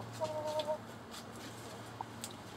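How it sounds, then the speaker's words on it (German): Hens walk around pecking, giving a couple of soft, brief clucks early on and an occasional short call over a steady low hum. "Na ihr, rumspazieren, rumpicken nur. Sehr lustige Hühner."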